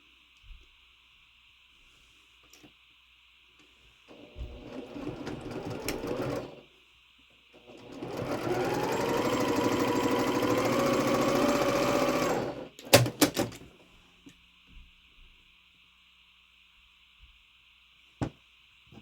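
A sewing machine stitches quilt block squares together, running in a short burst and then a longer steady run of several seconds, with quiet handling sounds around it.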